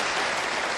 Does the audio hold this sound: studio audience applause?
yes